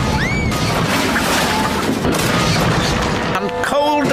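A Thomas and Friends train derails in a loud, sustained crashing smash with booming impacts and clattering debris, ending in a whistle-like screech, under narration.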